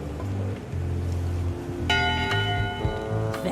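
Ship's bell in Return to Monkey Island rings a few struck tones over a low droning game ambience, with sustained metallic ringing and a second strike near the end.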